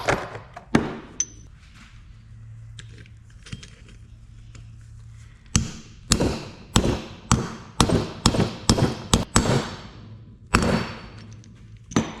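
Sharp metallic hammer strikes driving a 44.5mm bearing race into a boat trailer wheel hub, first sparse then a rapid series of about a dozen blows, close and loud with quiet pauses between.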